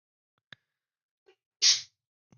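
A single sharp sneeze bursts out near and loud, preceded by a couple of faint clicks and breaths, during a Ukrainian-language online gaming stream.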